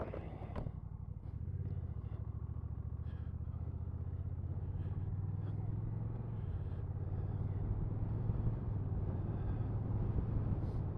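A 2023 Honda CMX 1100 DCT Tour motorcycle pulling away: a low, steady engine rumble builds and holds, fairly quiet, with faint wind and road noise.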